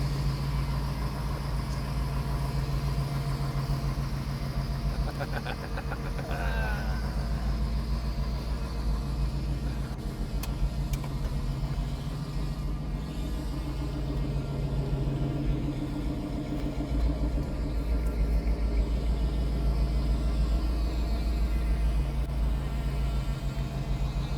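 A 1970 Plymouth Barracuda engine rumbles steadily throughout, a low continuous drone with a faint higher whine, heard from inside or near the car as it drives.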